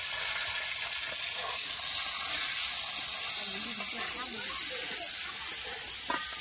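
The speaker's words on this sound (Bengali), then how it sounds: "তেল গরম হয়ে গেছে, এবার ছেড়ে দেবো আলু ভাজার জন্য।" Potatoes frying in hot oil in a kadai give a steady, even hiss of sizzling at moderate volume, with faint voices in the background.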